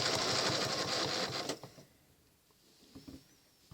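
A sewing machine stitches a Baptist Fan quilting pattern, running loud and steady for about a second and a half, then stopping, with a few faint mechanical clicks and handling sounds afterward.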